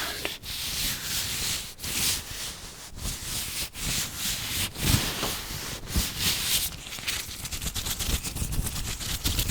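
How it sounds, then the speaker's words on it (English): Gloved hands rubbing a microphone up close, a continuous loud rough scraping and rustling texture with irregular soft thumps and swishes, dense and unbroken throughout with no voices. "if you like these glove sounds"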